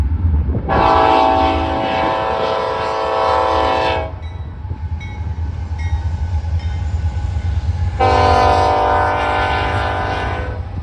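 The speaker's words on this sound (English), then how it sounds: "Seven locomotives heading this westbound intermodal next, one of which being a pretty shiny, brand new C6M." A Norfolk Southern westbound intermodal freight train led by seven locomotives, one a new C6M, rumbles past at close range in Alliance, Ohio, its horn blaring in two long blasts with steady rolling rail noise between them.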